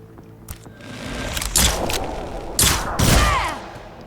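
Gunfire from Selma's Twitch Shot in Mutant Year Zero, fired from an elevated position: a few sharp, loud shots in quick bursts over a low game ambience, with no talking.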